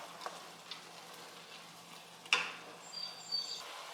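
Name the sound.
vegetables sautéing in a pan over medium heat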